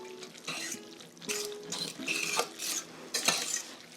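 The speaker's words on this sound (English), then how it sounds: "And then give that a mix." Food stirred in a bowl in a kitchen, with repeated bursts of utensil scraping and clinking against the dish, fairly quiet and unhurried.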